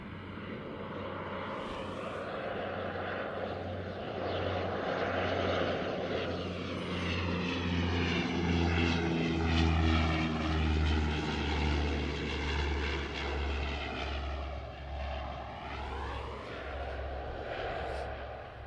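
Propeller airplane at Christchurch Airport, its engine drone loud and steady throughout with shifting harmonic tones as it passes close by, no talk over it.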